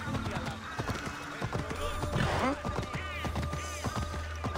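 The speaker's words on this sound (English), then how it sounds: "Call for the horse." A horse's hooves clip-clop steadily along a path in the Assassin's Creed Odyssey video game, rhythmic and fairly close, over game ambience with a person talking.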